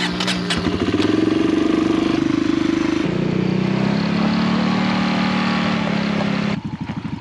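A Kawasaki motorcycle engine revs loudly up close, holding a throaty high pitch, then dropping back toward idle before cutting to a lower rumble near the end.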